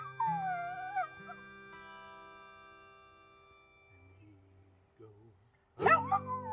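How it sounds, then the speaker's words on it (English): A lone coyote howls on a mountainside at night, rising and falling wails in a drawn-out call, with quieter yips and a sharp burst of higher howling near the end. "That night when the moon crossed the mountain, one more coyote was heard."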